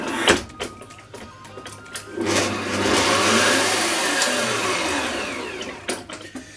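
An electric mixer whips a homemade ice cream mixture, its motor whirring loudly in a sustained surge, with clattering bumps and knocks before and after.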